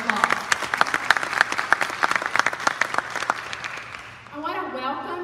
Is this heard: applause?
yes